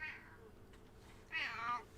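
A house cat meows twice up close, a short call at the start and a longer, louder meow near the end, over a quiet room background.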